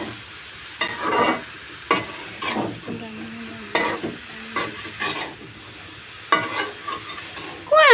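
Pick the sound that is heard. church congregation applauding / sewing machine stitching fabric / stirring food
stirring food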